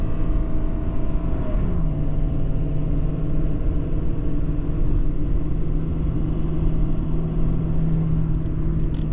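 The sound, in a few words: 2017 Ford F-550 Powerstroke truck driving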